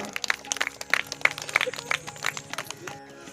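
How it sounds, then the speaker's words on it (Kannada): Audience applause at a devotional gathering: a steady, dense patter of many hands clapping at moderate distance, with a faint tonal hum beneath. "ಜೋರಾದ ಚಪ್ಪಾಳೆ ತಟ್ಟುವ ಮುಖಾಂತರ ಅವರಿಗೆ ನಾವು ಧನ್ಯವಾದ ಸಲ್ಲಿಸೋಣ"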